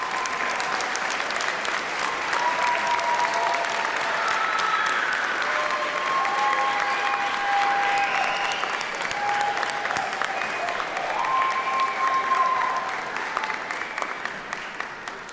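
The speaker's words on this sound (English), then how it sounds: "let's give them a big round of applause" Sustained audience applause at a nursing school graduation ceremony, a dense, steady wash of clapping from a large crowd that lasts throughout and tapers slightly near the end, with a few faint voices mixed in.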